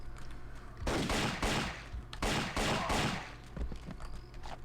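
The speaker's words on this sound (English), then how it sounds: "Has he got a machine gun? No, it's just a rifle." Rifle fire crackles in bursts during the Indiana Jones and the Infernal Machine video game, two loud sustained volleys with a short gap between them, followed by quieter background noise.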